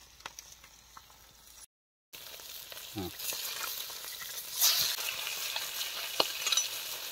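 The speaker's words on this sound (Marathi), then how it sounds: "बघू अशा प्रकारे मछली फ्राय होत आहे" Fish fries in a pan with a steady, close sizzle, occasional pops and crackles rising and falling, plus a brief stirring scrape.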